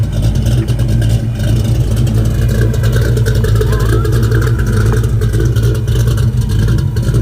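A Ford 351-based 393 stroker V8 revving hard on a dyno, a loud, constant, close engine roar with rough mechanical clatter throughout.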